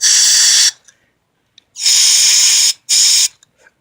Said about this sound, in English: So I'll get your regular old air duster out.